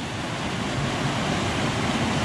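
Fast river water rushing and churning at the Strid, a steady, loud, broadband roar without pause and no voices.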